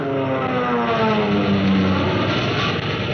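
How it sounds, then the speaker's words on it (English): A radio drama sound effect of WWII Spitfire fighter planes over Malta, a loud, continuous droning engine roar with a slight rising whine that swells gently in the middle. "Your planes zooming up to fight for those ships."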